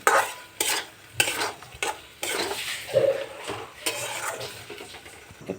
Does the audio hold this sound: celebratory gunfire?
no